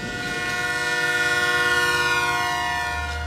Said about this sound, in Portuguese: Escute o apito do trem.